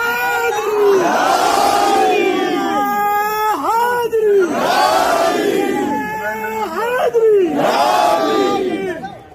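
A large crowd at a rally at the Ajmer Dargah chants slogans in unison, loud rising and falling shouted phrases repeated about three times in a regular call-like rhythm, with brief gaps between waves.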